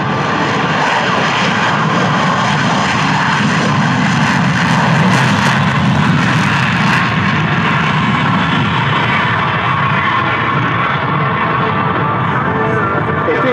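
An F-35B Lightning fighter with its F135 engine flies past at an air show at MCAS Iwakuni Friendship Day 2024 in Japan, a loud, broad roar that holds steady and fills the whole stretch with no voices.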